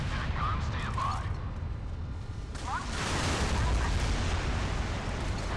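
In the naval video game Modern Warships, a nuclear missile launches and detonates with heavy, roaring blasts and a long rumble, while voices speak over the start.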